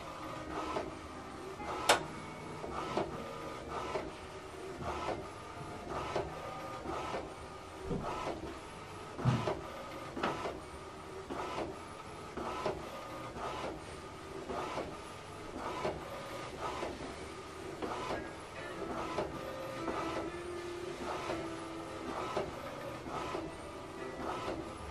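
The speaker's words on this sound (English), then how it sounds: "So what it's doing right now is printing" An HP DeskJet inkjet printer prints a photo, giving a steady mechanical whir with a fast, regular train of clicks and carriage strokes, close and continuous throughout, with no talking.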